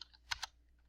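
Two quick keystroke clicks on a computer keyboard, close and fairly quiet, with a few fainter taps trailing off, no voices.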